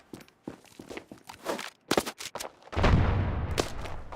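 In a Standoff 2 tournament match, a grenade kill lands: scattered sharp gunshots and footsteps give way to a heavy, low blast that rumbles on for over a second, with no voices over it.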